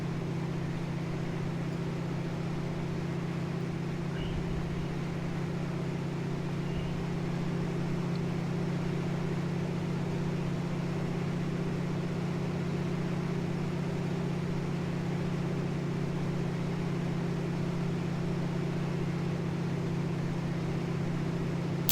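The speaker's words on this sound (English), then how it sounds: "That big radial engine and everything." Steady, continuous drone of the big radial engine on a Milviz DHC-2 Beaver floatplane in a flight simulator, a loud low hum that holds unchanged throughout with no talking.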